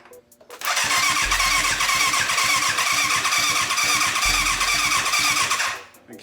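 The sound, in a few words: 1988 Yamaha FZ750 motorcycle engine starting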